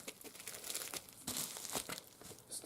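Taped packaging crinkles and tears as a Midland WR-400 All Hazards weather radio is unboxed, with steady close crumpling and a few sharper ripping bursts throughout.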